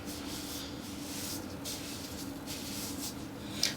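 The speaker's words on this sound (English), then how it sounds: "I'm literally just going to spray it because I haven't put any leave-ins on" Mizani leave-in conditioner sprayed onto hair, a steady close hiss of several overlapping spray bursts with soft rubbing, ending in a brief louder burst.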